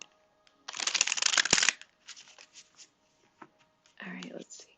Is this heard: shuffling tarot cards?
yes